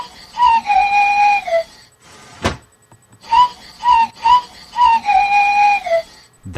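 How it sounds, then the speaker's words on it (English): Breathy panpipes from the Global Gizmo educational game play short melodic phrases of sustained and stepped notes, with a sharp swooping click between phrases, clear and alone. "That's a match. Panpipes."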